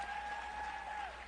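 An audience at a UN International Women's Day observance applauds in a steady wash of clapping, moderately loud and sustained, with a faint tone hanging over it.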